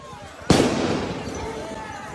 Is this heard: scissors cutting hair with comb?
no